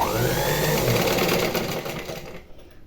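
A sewing machine with a normal presser foot stitching thread piping runs as a steady, close, continuous whirring hum that fades out near the end.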